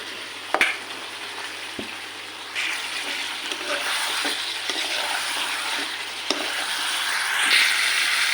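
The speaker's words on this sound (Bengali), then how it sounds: "ভেজে রাখা পটল আর আলু দিয়ে দিচ্ছি।" Fried pointed gourd and potato pieces are added to spiced oil in a pan and keep frying, giving a moderate, continuous sizzle and hiss with light stirring clatter, with no voices.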